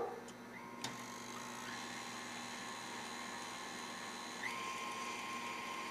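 Electric kitchen mixer whirring steadily at medium to high speed while beating a peanut butter ball mixture, a constant whine with a click as it switches on and a slight lift in pitch partway through.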